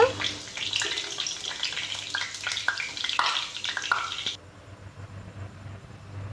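Potatoes fry in hot oil for chicken biryani, a dense steady sizzle with occasional stirring clicks, close and loud, then the crackle drops abruptly to a faint low simmer for the last couple of seconds.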